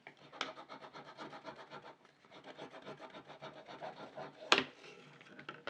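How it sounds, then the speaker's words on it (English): Scraper tool pressed and dragged over Cricut transfer tape on a bag clip, a close series of quick rhythmic rasping strokes with a short pause midway and one sharper scrape near the end. "let me see if I can scrape that down even more on this one"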